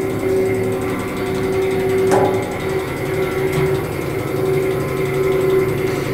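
Class 66 diesel locomotive engine heard from inside the engine room, a loud, steady droning hum with constant mechanical clatter and a couple of sharp metallic knocks.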